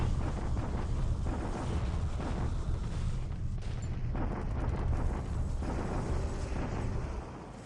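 Bombardment explosions in the video game War in the Pacific form a dense, continuous rumble of booms and blasts, loud and sustained without clear gaps, with no talking.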